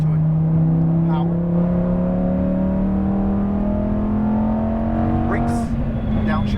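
A Lamborghini Huracan Performante accelerates hard on a race track, its engine note climbing steadily in a loud, continuous in-car drone, with a voice talking over it.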